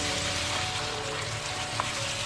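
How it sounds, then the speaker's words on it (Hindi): Chicken simmering in a yogurt and green masala for biryani sizzles with a steady, close frying hiss and faint bubbling that hold evenly throughout, with no one speaking. "अब ये चिकन दही के साथ अच्छी तरह पक रहा"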